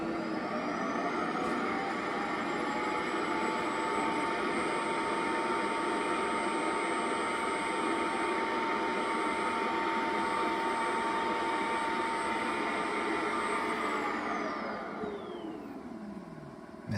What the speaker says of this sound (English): That sound was the little robot going back into its